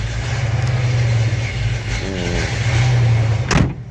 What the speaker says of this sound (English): Hit the throttle pedal.